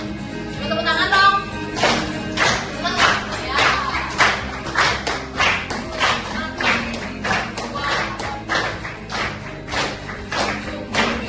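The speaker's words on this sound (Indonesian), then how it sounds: "Tepuk tangan dong." A class of students at a school counseling session in Denpasar claps hands in a steady rhythmic beat, fairly loud and close, keeping time for the whole stretch while a voice speaks briefly near the start.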